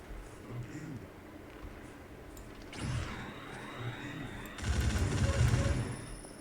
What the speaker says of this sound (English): Oops, I'm shooting the Twanha